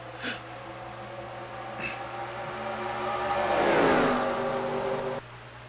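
Race cars battle for the lead at Pocono in a racing video game, a steady engine drone rising to a louder pass around the middle before cutting off abruptly near the end, with no talk.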